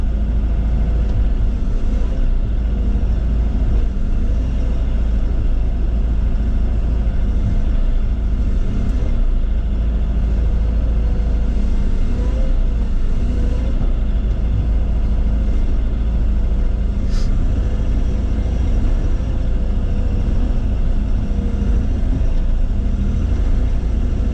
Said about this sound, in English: Got the skid steer over here. Gonna load some pieces as strategically as I can.